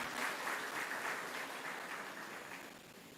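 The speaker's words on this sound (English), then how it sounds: "Let's give the Simone Dance Academy a round of applause, ladies and gentlemen." Audience applause at a Divali dinner and cultural event, a soft, steady wash of clapping from a crowd heard from some distance, fading slightly toward the end.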